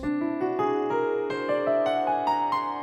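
Piano notes step upward in whole tones one after another in an even rising whole-tone scale, each ringing into the next, clear and close with no voices.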